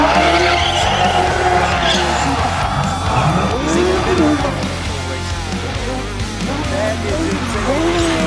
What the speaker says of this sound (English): You did a wheelie donut.